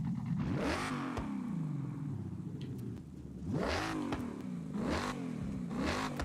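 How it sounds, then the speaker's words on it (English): A modified car's aftermarket exhaust revs repeatedly in the Forza Horizon 6 racing game, with a throaty engine rising and falling in three or four surges over a steady idle rumble, loud and close. "Oh man, I really don't want to get rid of this exhaust. It sounds so good."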